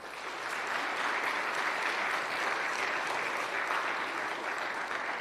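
An audience at a school awards ceremony gives a steady, even round of applause for named students, many hands clapping densely and continuously at a moderate distance, with no speech over it.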